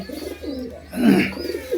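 A Tiger Double pigeon, a red-eyed bird kept indoors, coos loudly and close in rolling, swelling phrases, alone with no talk.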